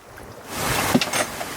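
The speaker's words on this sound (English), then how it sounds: "It's a bit of a gust." A gust of wind sweeps over a sailboat at sea, a rising rush and buffet against the microphone that swells after a quiet start, with faint splashing and rigging noise.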